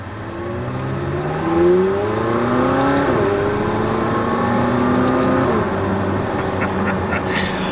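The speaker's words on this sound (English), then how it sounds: "put my foot on the right-hand pedal and hear that lovely engine once it's warmed up" A warmed-up McLaren 600LT V8 engine revving hard under acceleration, loud and close, with rising harmonic sweeps that drop and climb again through a gear change, continuous throughout.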